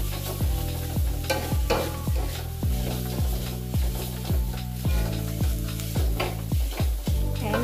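Noodles with beef and bean sprouts being stir-fried in a pan, with a steady run of scraping spatula strokes in regular rhythm over continuous close sizzling, no voices.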